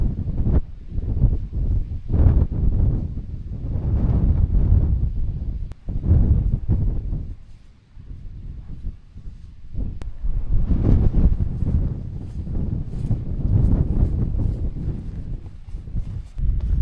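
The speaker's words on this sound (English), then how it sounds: "still some serious gusts coming through when you're exposed" Strong gusts of wind buffet the microphone on an exposed Lake District fell during a gale, a loud continuous rumbling roar that surges and briefly eases, with no voices.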